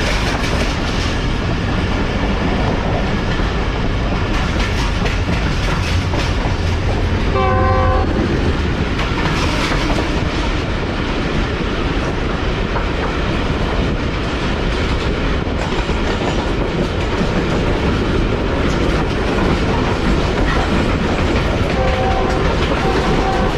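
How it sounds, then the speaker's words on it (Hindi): The Tezgam train skips Airport station without stopping, a loud continuous rumble of wheels and carriages rushing past close by, with clickety-clack rhythm and short horn blasts cutting through the roar. "एयरपोर्ट स्टेशन को स्किप कर रही है ट्रेन।"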